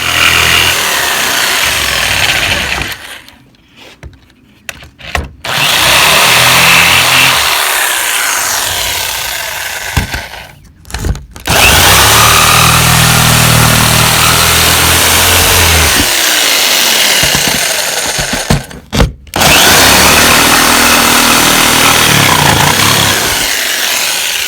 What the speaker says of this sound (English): with the circular saw, and then I'm going to finish it with the jigsaw